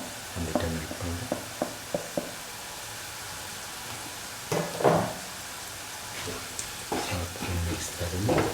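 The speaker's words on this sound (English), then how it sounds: "Salt and mix thoroughly." Chili, fenugreek and turmeric powders being stirred into mango pickle in a home kitchen, a series of short scraping and stirring strokes, some quick and clustered, close and fairly quiet with no talk.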